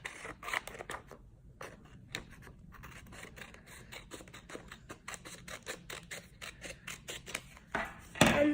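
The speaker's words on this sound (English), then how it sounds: "Then you use your scissors to cut this part off, to cut the extra part off." Scissors snip through paper while folding a paper boat, a quick run of close, crisp cuts and rasps in an uneven rhythm, ending in a louder rustle.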